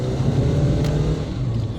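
A 2014 Nissan Versa with a transmission range sensor fault drives steadily, its engine giving a continuous low hum and road rumble throughout, close and moderately loud with no talking.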